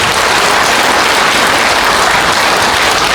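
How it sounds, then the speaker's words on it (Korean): Loud, dense applause fills a hall at a Buddhist dharma service, a steady wash of many hands clapping without pause for about three seconds, close and continuous. "뜨거운 박수 한번 부탁드리겠습니다"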